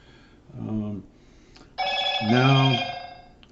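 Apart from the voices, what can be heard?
cell phone ringing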